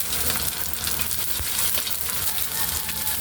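Dried fish (tuyo) fries in hot oil with a dense, steady crackling sizzle, close and continuous, punctuated by occasional sharper pops.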